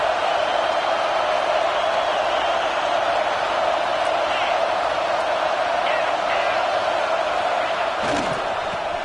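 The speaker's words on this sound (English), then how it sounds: "And the crowd coming to life here, trying to help this defense down in the red zone." A college football stadium crowd at Clemson vs Texas roars steadily as the home defense holds in the red zone, a dense and constant wall of noise.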